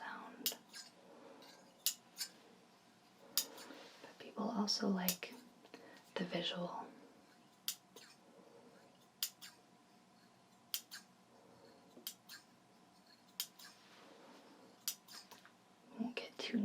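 Heavy scissors snip in a quiet ASMR session, giving sharp, crisp cuts spaced every second or two, with soft whispering between them.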